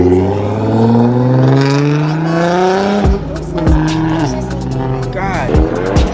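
A Nissan GT-R at a car meet revs hard, the engine pitch climbing loudly before sharp throttle blips and tire squeal, with excited voices shouting over it.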